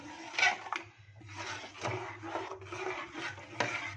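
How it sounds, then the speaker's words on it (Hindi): A spoon scrapes and stirs through thick split green moong dal in a pot, repeated rubbing strokes with a few light knocks against the pot, close and quiet. "मिला के चेक करते हैं।"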